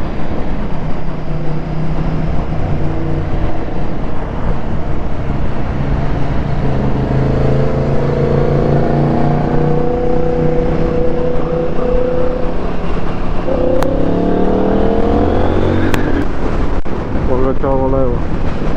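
A CFMoto 800NK naked motorcycle rides along the French Riviera, its engine droning steadily under strong wind rush at the helmet, with rising and falling engine notes as it accelerates and shifts.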